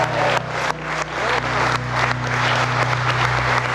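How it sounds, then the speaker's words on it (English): Wedding guests clap and cheer after the couple's vows and kiss, loud, close, continuous applause with bursts of cheering over a low steady hum. "Kiss the bride, clap and cheer."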